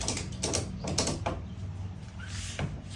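A homemade crank hoist for a Jeep Wrangler top is wound by hand, giving rapid ratcheting clicks and gear noise in close, loud bursts, pausing briefly midway.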